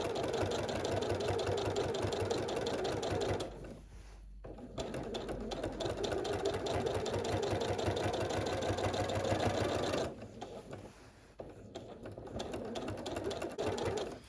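A sewing machine stitches a quilt at full speed, its rapid needle rhythm droning loudly and continuously, pausing briefly twice before restarting.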